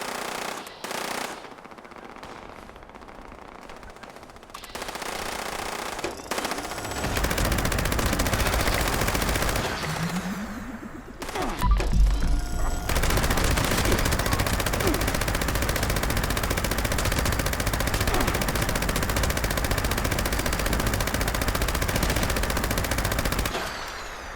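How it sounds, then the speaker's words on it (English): Sustained gunfire in the video game Fallout 76, with dense automatic bursts running almost continuously over a steady bed of game noise, loud and close throughout. "That dude's just shooting"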